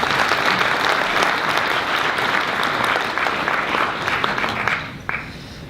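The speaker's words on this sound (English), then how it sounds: "I think another round of applause for all three of them" Sustained audience applause for presenters after a market update presentation, a dense even wash of clapping from a seated crowd that thins out near the end.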